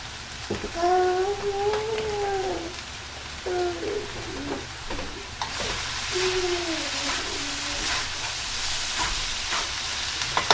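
Oil sizzling in a pan while cooking pad thai, a soft steady hiss that swells louder midway, with a spoken voice running over it throughout.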